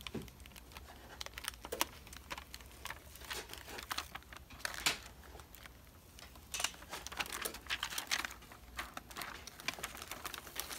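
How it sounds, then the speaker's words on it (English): Heat transfer vinyl tape is peeled off a pillow, a soft crinkling and crackling patter of faint, uneven rustles close to the ear. "And just pull it up. See how the tape comes right off."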